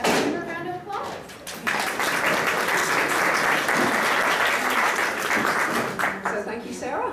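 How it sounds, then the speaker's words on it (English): A conference audience breaks into applause for a speaker, a loud, full burst of clapping that swells after a brief pause and carries on steadily, with a few thumps mixed in. "Give her a round of applause."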